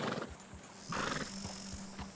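Horse hooves clip-clopping at a gallop with a loud whinny partway through, from a horse in the Western video game Red Dead Redemption 2, with steady drumming beats close up and no talking.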